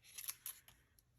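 Scissors fussy cutting paper for a handmade card: a few quick, faint crisp snips in close succession, then a lighter snip after a short pause, in a quiet room.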